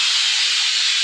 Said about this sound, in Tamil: இப்பதான் விசில் வருது